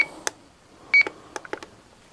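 A timer on a Warhead 3545 1850KV motor thrust test stand is switched off, giving a short run of separate electronic beeps and clicks that are close, moderately loud and free of talk.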